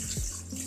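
Water pours briefly into a bowl of active dry yeast, a short splashing trickle lasting under a second, close and fairly quiet.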